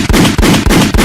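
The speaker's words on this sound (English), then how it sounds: "Joe Button gunshots for everybody." A rapid burst of loud, close gunshot effects fires in quick succession, about four sharp cracks in just over a second, each decaying into a dense noisy tail with no talking.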